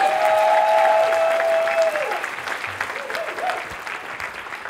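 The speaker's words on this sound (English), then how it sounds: "Let's hear it for Lisa Berry, everybody, for Ohio State." Applause from an audience fills the clip, steady at first and tapering off, with a faint voice over the clapping.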